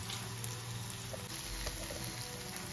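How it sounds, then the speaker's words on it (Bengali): Onion frying in a pan with ginger-garlic paste and chilli paste for mutton tehari, a low steady sizzle with light stirring, fairly quiet and without talk. "ততক্ষণ আমরা একটুখানি পেঁয়াজটাকে কষিয়ে নেব"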